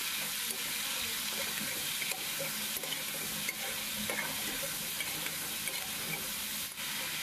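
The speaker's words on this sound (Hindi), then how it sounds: "तो इन सभी को हम अच्छे से भूनेंगे," Spices such as turmeric, red chilli powder, garam masala and coriander powder frying and being stirred in a pan, a steady close sizzle with scraping stir strokes and a faint watery wash underneath, no voices.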